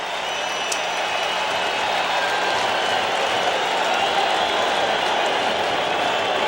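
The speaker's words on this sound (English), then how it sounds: "And the crowd will get even louder," A baseball stadium crowd of Mets fans roars in a steady, dense wash of cheering and applause, loud and continuous with no breaks, swelling slightly toward the end.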